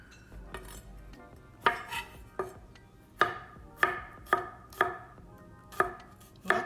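A knife slicing garlic for kimchi baeckeoffe, with about ten crisp, sharp thuds on a cutting board, spaced roughly half a second apart, close and clear with no talking.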